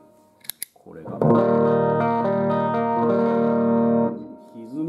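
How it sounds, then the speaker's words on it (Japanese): An electric guitar played through an inexpensive effects pedal set to distort: a few plucked notes, then a loud sustained chord with thick, buzzing distorted overtones rings for about three seconds before being cut off. "歪みますね。"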